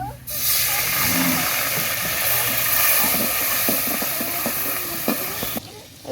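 Water poured into a hot frying pan after frying hisses and sizzles with steam in a loud, continuous rush, with small pops and crackles scattered through.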